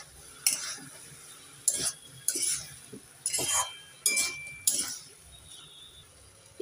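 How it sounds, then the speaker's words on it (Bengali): A spoon stirs cabbage curry in a pan, making six sharp metallic clinks and scrapes at uneven intervals, close by and quiet between strokes. "একটু নেড়ে চেড়ে দিয়ে দেব"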